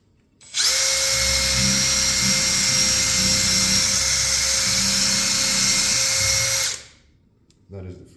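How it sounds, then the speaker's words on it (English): A power drill whines loudly and steadily for about six seconds while drilling out a stuck thread insert, starting and stopping abruptly, with a faint low rumble underneath. "Wear some safety glasses and then we can get to drilling."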